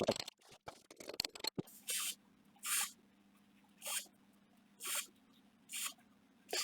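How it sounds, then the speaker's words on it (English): A spray can is used during a kids' quad bike rebuild: after some early clatter, five short hissing bursts come at regular intervals of about a second, near and fairly loud, with a faint steady hum beneath. "Now go down it as you spray it."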